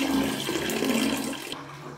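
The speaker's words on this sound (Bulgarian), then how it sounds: "Да пуснем една вода." A toilet flushes close by with a loud rushing gush of water that cuts off sharply after about a second and a half, leaving a softer trickle of refilling water.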